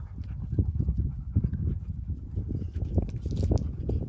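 Rapid, irregular hoof clopping of foals close by, a busy clatter of steps with low rumbling background noise and no talking.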